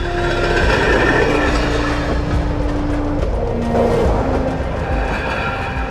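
A TGV high-speed train rumbles loudly and steadily nearby, with a sustained drone and tonal hums, pulling away.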